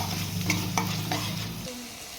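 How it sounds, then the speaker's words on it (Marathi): A spoon stirs spicy chicken masala with a splash of stock in a hot pan, scraping strokes over a steady sizzle, close and alone, the frying hiss cutting off near the end. "आता आपण यामध्ये थोडंसं स्टॉक टाकून घ्यायचं आहे आणि व्यवस्थित आपल्याला मसाला मिक्स करून घ्यायचा आहे"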